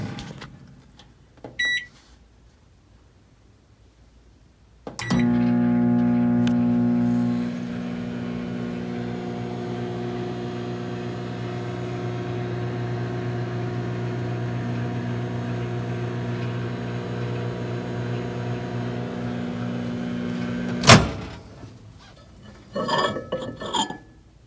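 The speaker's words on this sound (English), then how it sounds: "Place that in the microwave. We'll go about 15 seconds." A microwave oven runs for about 16 seconds while melting shaving soap in a thumbhole shaving bowl, its steady close hum starting abruptly and stopping at once, with brief handling clicks before and after.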